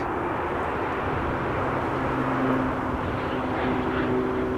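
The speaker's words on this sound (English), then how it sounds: "Air Dolomiti flying for Lufthansa. Embraer 190, arriving from Munich" An Air Dolomiti Embraer 190 flying for Lufthansa arrives at Amsterdam Schiphol on the Kaagbaan runway, a steady broad jet roar holding at moderate level throughout with a faint engine whine.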